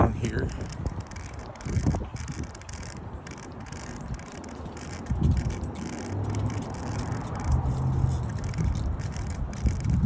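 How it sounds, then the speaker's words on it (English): Cars pass by on a city street in a steady wash of traffic noise with rolling engine hums, seen from a sidewalk. Faint scrapes and a nearby voice sit in the background. "I'm listening to these cars to see if they're stopping"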